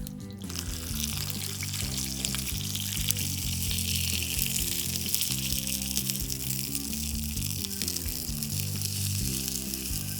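Onions sizzle steadily and loudly on a hot barbecue grill turned up to full heat as they are flipped. The hiss stays dense and unbroken throughout.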